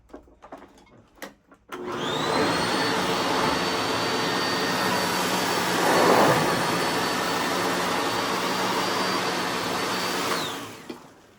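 A Sanitare upright vacuum cleaner switches on and runs over carpet, a loud, steady high-pitched whine and roar that holds for about nine seconds after a few handling clicks, then winds down.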